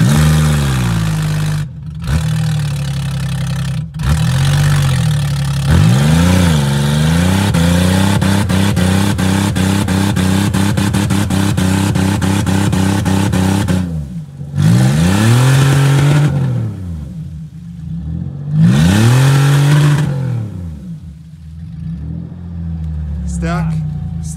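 A car engine revs repeatedly, rising and falling in bursts with brief pauses between, loud and close, with some clatter and voices mixed in.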